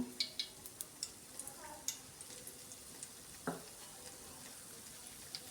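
Mustard seeds, cumin and dried red chillies crackling and popping in hot oil for tempering, a run of sharp little snaps and ticks scattered over a soft, steady sizzle.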